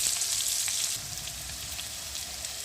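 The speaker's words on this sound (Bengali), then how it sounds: "আলু বেগুনগুলোকে সুন্দর করে ভেজে নিলাম।" Potato and eggplant pieces fry in hot oil with a steady, dense sizzle and crackle, slightly quieter after the first second, with no voices.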